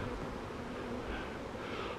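Honey bees buzzing steadily at close range while nucs are installed in a hive, a continuous droning hum with no talking.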